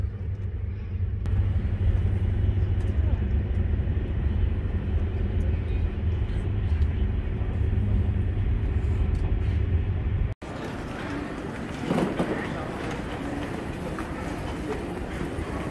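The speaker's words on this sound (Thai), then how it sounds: "อันนี้บรรยากาศภายในรถไฟ" Inside a TGV high-speed train running at 300 km/h near Paris, a loud, steady low rumble fills the carriage. A sharp break comes partway through, then the cabin noise continues.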